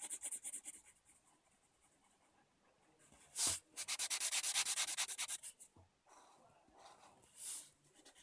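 Hand colouring across a surface with a pen or marker, heard as close, soft scratchy rubbing strokes in bursts, with a louder sustained stretch of rapid back-and-forth scribbling in the middle.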